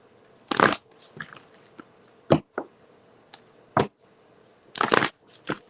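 A deck of tarot cards shuffled by hand in short separate bursts of riffling and slapping, close and fairly quiet, with soft shuffling between the bursts.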